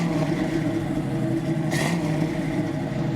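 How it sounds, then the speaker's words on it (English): A 1968 Camaro SS V8 engine roars steadily close by with a brief rising rev burst partway through, no voices. "Hey, JR, can you give us some gas?"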